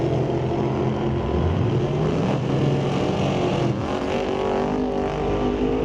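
A raw carbon fiber dragster and an S10 long box launch side by side at an NHRA drag strip, their engines roaring loud and sustained with rising revs.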